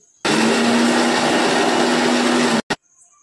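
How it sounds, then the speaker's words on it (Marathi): A mixer grinder whirs loudly and steadily for about two seconds, grinding chilies, garlic and cumin dry without water, then cuts off abruptly with one brief restart pulse. "हे वाटण मिक्सरमध्ये पाणी न टाकता आपण बारीक करून घेऊ"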